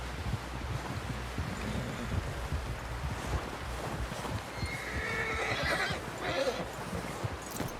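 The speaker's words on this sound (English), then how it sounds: "Someone help John down off this horse." A horse neighs loudly over hooves clip-clopping at a steady pace, with gusty wind noise in the background, in the video game Red Dead Redemption 2.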